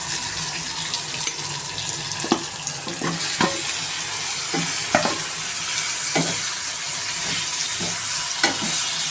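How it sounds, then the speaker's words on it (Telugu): Marinated chicken for cashew nut chicken sizzles loudly in a hot pan, with a steady hiss broken by repeated sharp scrapes and clatters of stirring, close and continuous. "నెక్స్ట్ చికెన్ యాడ్ చేసుకుందాం."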